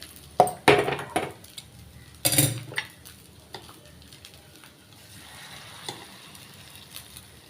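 Hot tempering with asafoetida poured into Andhra-style raw mango rasam, giving a few sharp clattering splashes and a burst of sizzle near the start, then a faint simmering hiss and light stirring clinks.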